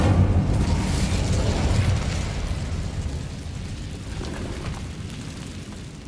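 An Incendio fire spell cast in Hogwarts Legacy bursts with a loud, rumbling whoosh that slowly fades over several seconds, with no talking.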